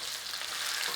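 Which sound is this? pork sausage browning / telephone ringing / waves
pork sausage browning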